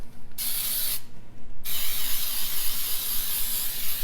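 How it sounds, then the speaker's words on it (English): Baker's Joy cooking spray hisses from an aerosol can onto a baking pan in short bursts, then one longer continuous spray, close and fairly loud. "I'm going to spray it with Baker's Joy."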